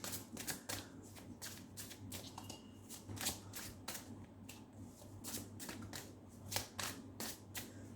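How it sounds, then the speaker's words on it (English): Tarot cards are shuffled by hand in quick, uneven bursts of soft riffling and slapping, close and quiet, with a faint steady hum beneath. "terrible attempt at shuffling"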